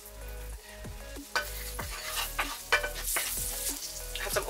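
Curry powder, turmeric and chopped scotch bonnet pepper frying in hot oil for Jamaican chicken curry, a dense close sizzle broken by several sharp scrapes and stirs of a spoon against the pot.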